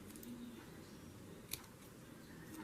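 Scissors trimming a paper craft, heard as a single faint, sharp snip in an otherwise quiet room.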